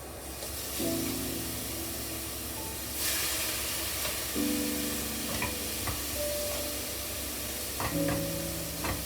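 String beans stir-frying in oil in a pan, a steady close sizzle and hiss with occasional scrapes and stirring clinks, no voices.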